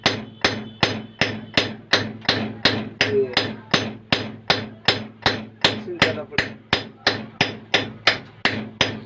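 Steady, evenly spaced metal hammer blows on a chisel dressing a flour mill grinding stone, about twenty sharp close strikes in a row, with no talking.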